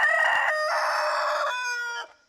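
A rooster crows loud and close in one sustained, wavering call lasting about two seconds, with a fading tail and no voices.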